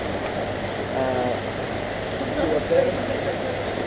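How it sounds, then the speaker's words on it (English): Steady rain patters throughout in Siem Reap, Cambodia, heard from inside a Khmer barbecue restaurant, a dense hiss of drops on surfaces with faint voices and clatter in the background. "And it started raining as soon as we got in here"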